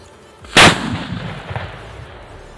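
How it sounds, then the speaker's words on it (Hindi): A sutli bomb firecracker set off on the ground for Diwali gives one sudden, very loud blast, then a rumbling echo that slowly fades, with no talking. "हमारे पास है सूतली बम, तो इसकी करते हैं अभी टेस्टिंग"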